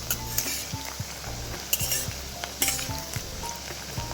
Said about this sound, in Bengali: সেই আলুগুলোকে ফ্রাই করে নিচ্ছি তেলে দিয়ে সর্ষে তেল দিয়ে